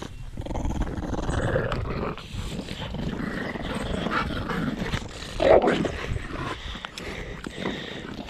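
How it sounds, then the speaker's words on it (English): A strong-jawed dog growls low and steadily while tugging hard on a frisbee, the rumbling continuous and close throughout, with a brief louder snarl near the middle. "Look how ridiculously strong-jawed this dog is."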